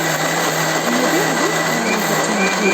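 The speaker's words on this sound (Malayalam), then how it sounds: "കുറച്ച് മുളപ്പിച്ച ഉലുവ എടുത്ത് നന്നായിട്ടൊന്ന് മിക്സിയിലിട്ട് പേസ്റ്റ് രൂപത്തിൽ ഒന്ന് അടിച്ചെടുക്കുക" Loud, continuous whirring of a mixer grinder running steadily at high speed, grinding sprouted fenugreek into a paste, unbroken for the whole stretch with no talking.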